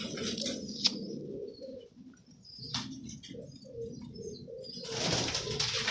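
Pigeons coo repeatedly in soft, low rolling calls close by, with a few sharp chirps and a burst of rustling or wing movement near the end.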